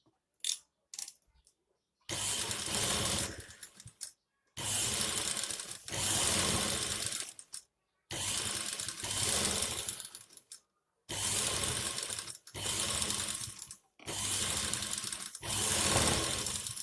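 Sewing machine stitching piping onto a long frock, running in repeated bursts of rapid needle chatter a few seconds each, separated by short silent pauses, close and fairly loud.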